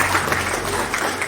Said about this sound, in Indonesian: Kita kasih tepuk tangan dulu untuk beliau.